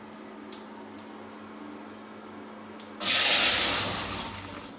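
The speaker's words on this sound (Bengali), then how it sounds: "তেলটা গরম হয়ে গেছে, আমি এখন মাছটা ঢেলে দেব" Fish tipped into hot oil seasoned with black cumin sets off a sudden loud, close sizzle that hisses steadily and slowly eases, after a few seconds of quiet kitchen background.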